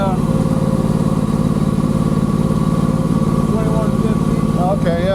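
A 2024 Can-Am Maverick R side-by-side engine idles steadily in Sport Plus mode with anti-lag active, giving a close, continuous low rumble with a faint rising whine near the end.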